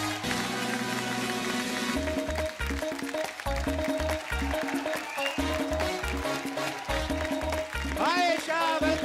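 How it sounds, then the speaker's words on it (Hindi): Studio audience applause welcoming actress Esha Deol onto a comedy talk show set, steady clapping carried under a thumping music beat, with a voice briefly heard near the end. "आप सबकी जोरदार तालियों के बीच में बुलाना चाहूंगा"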